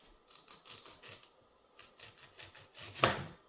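An onion is sliced with a knife in a quiet, even rhythm of crisp strokes, ending in one louder, sharper cut, with no talking.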